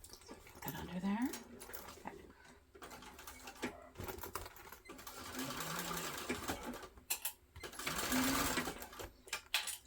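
A sewing machine bastes a backpack lining in bursts of rapid stitching, stopping and starting between runs, with handling clatter and a dog audible in the pauses.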